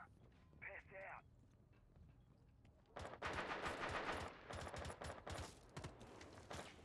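Rapid gunfire from the Rainbow Six Siege video game during a competitive esports match, bursts of shots crackling loudly from about the three-second mark onward after quieter moments with brief sounds.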